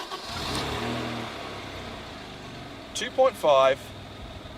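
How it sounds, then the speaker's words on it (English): A 1994 Saab 900 with a 2.5 V6 and manual gearbox idles near the microphone and then gives several short, sharp revs that climb quickly and fall away. Someone talks over the idle. "V6 engine, one of GM's best engines, I would say, in terms of 6 cylinders. Has an amazing noise."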